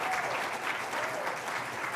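Audience applause at a conservative political event, a steady dense wash of clapping that holds evenly through the whole stretch, moderately loud with a faint murmur of voices beneath.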